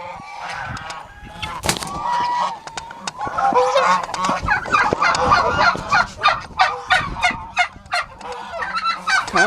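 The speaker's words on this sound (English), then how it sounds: "Come on, turkeys." Turkeys gobble in repeated bursts of rattling calls among other farmyard poultry, fairly close and overlapping, rising into a quick rhythmic series toward the end.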